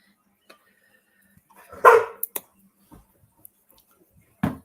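A dog barks once loudly indoors, followed by a couple of short yips and a final sharp bark, separated by near silence.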